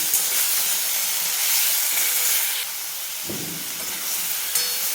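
Tomato and onion sautéing in a pan on a gas stove, a steady loud sizzle and hiss that drops slightly partway through, with a brief clatter of stirring.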